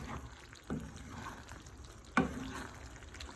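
Baked ziti pasta being mixed in a pan, with soft wet scraping and a couple of sharper clacks of the utensil against the pan, faint and close, with no talking.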